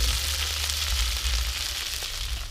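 Insects frying crispy in hot oil, a steady close hiss and crackle of sizzling throughout with no talking.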